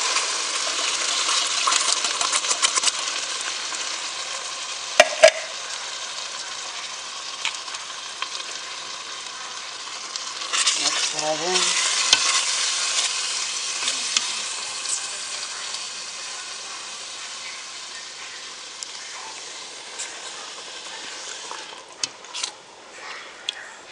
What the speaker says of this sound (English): now we're going to bring it down by adding our sauce